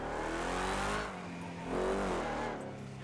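A struggling Opel engine in the FiveM driving game revs hard in two long, loud surges, with a strained, droning tone that dips briefly between them.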